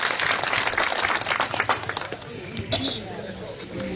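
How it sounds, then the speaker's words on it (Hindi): Crowd at an election campaign gathering applauding to welcome a candidate, a fairly steady clatter of clapping hands mixed with voices, moderately loud and fading slightly toward the end. "एक बार जोरदार तालियां बजाकर उनका अभिवादन"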